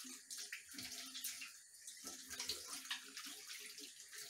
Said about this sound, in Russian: сразу промываем их под водой